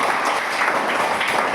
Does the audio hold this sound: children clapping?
yes